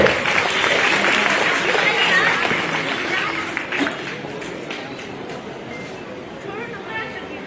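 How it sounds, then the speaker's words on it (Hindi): Audience applause welcoming a retired Lieutenant General, the army's former Vice Chief of Staff, as chief guest at a formal function; sustained loud clapping from a large crowd that eases slightly over time, with faint voices underneath. "तालियों से साथ एक स्वागत कीजिए फिर से"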